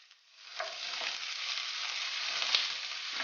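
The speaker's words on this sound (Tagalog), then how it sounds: "Gisa-gisa lang po natin ang karne sa bawang at sibuyas." Beef sautés in hot oil with garlic and onion, giving a bright, continuous close sizzle broken by a few faint stirring scrapes.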